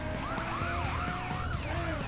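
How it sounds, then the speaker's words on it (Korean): A police car siren in the video game The Crew wails, sweeping up and down repeatedly, loud and steady, with engine rumble underneath and no talking. "경찰차가 무섭게 오네요"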